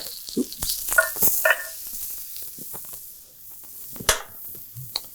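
Grilled asparagus in a hot pan gives short bursts of sizzling and crackling broken by clattering handling noises and a few quiet gaps, heard close and fairly soft.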